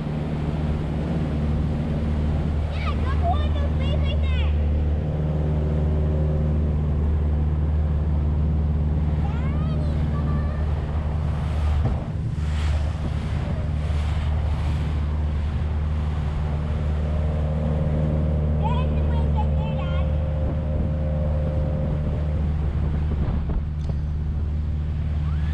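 A boat cruises through rough waves on Lake St. Clair with a steady low engine drone, heavy wind buffeting the microphone throughout and faint voices now and then.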